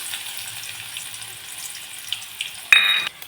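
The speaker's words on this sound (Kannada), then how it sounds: "ಈಗ ಎಣ್ಣೆಗೆ ಈರುಳ್ಳಿ ಹಾಕೊಳ್ತಾ ಇದ್ದೀವಿ." Onions drop into hot oil for a dill-greens stir-fry, giving a faint, steady, hissing sizzle that swells into a sudden louder crackling burst near the end.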